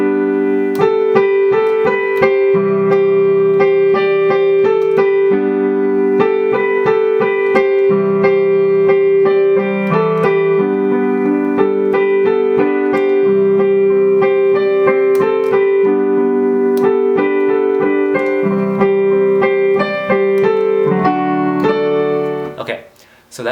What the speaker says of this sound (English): the beginning of the song starts off with this instrumental.